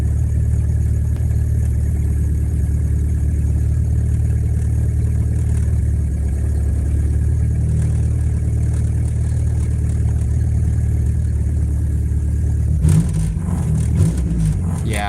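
A Mazda Miata engine running an MS3pro management system idles with a steady low drone, then near the end revs up sharply in a short burst. The engine is close and no one speaks.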